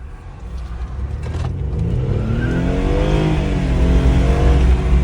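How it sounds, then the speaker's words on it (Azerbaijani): A BMW F30 328i accelerates on a test drive after a repair, heard from inside as a steady engine drone that rises in pitch and grows louder through the gears, with no talk. "BMW F30 çıxırıq test sürüşünə. Çəki problemini aradan qaldırdıq və görək avtomobil sahibi sürsün."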